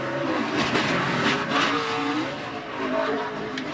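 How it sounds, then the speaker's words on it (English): A NASCAR stock car roars at full speed, its engine note wavering as the car steps out and slides in a wreck, with tires scrubbing and a crowd-like wash of noise behind. "That car just stepped out a lot like it did Saturday night, Mike, when somebody got alongside of it."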